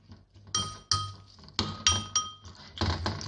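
Maggi seasoning, salt and oil stirred together in a bowl, giving a string of sharp glassy clinks and taps as the utensil strikes the sides, about six distinct knocks, close and fairly loud.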